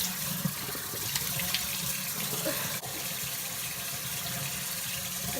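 Water runs steadily from a bathroom sink tap as it is used to wet a face, a continuous close splashing rush with a few small drips and knocks and no speech.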